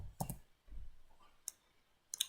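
A computer mouse gives a few sharp, close clicks, a quick double click near the start and single clicks later, against a quiet room.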